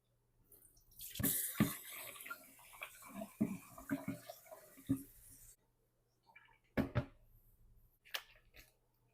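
Raw mutton is rinsed by hand in water, with splashing, sloshing and dripping in irregular bursts separated by quiet pauses, close and fairly soft.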